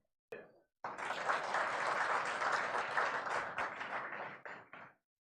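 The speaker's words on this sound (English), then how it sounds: "I see only this side clapping" An audience at a sports conclave in Rajasthan breaks into applause after a short burst, sustained clapping for about four seconds that thins out into a few scattered claps.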